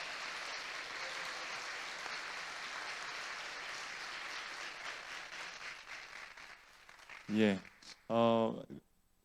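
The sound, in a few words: church congregation applause welcoming a guest poet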